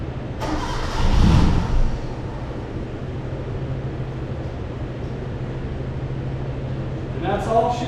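A Hyundai Scoupe that sat for 22 years cranks with a brief starter whir and a short engine catch running on carb cleaner fumes, then a steady idle-like hum, close by, with a faint click near the end.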